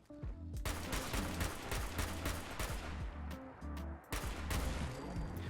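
Rapid, closely spaced semi-automatic shots from a modded combat rifle replacement in Fallout 4, the loud cracks continuing with hardly a gap and one brief pause near the end.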